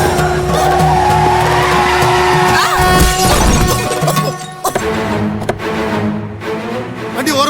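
A vehicle skids to a stop in a dramatic Tamil TV serial scene, a loud tire screech and rumbling engine building to a sharp crash-like jolt, then fading into quieter scattered noise.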